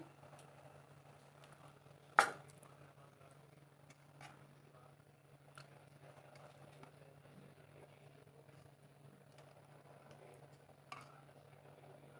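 Bhetki fish frying in oil in a pan with green chillies, a faint steady sizzle with a low hum and a couple of sharp clinks from the pan.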